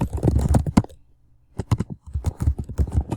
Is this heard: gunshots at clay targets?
no